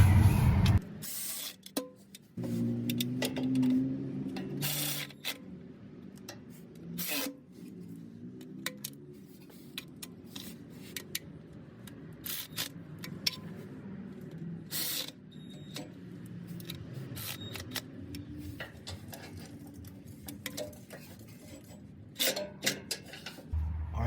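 Transmission pan bolts on a Ford Expedition are tightened back and forth, giving sparse metallic clicks and ratcheting taps scattered over a quiet background, close up, with no talking.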